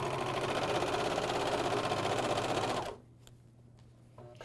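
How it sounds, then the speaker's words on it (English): An AirThread 2000D professional serger stitches fabric for a bathrobe, a loud, fast, steady mechanical chatter that runs for about three seconds and then stops abruptly, leaving quiet handling noises. "now we're going to go to the serger"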